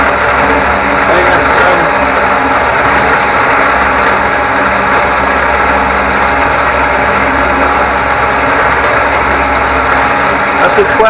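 A milling machine spins a 12 mm four-flute cutter at 1000 RPM, giving a loud, steady mechanical drone with a constant hum throughout.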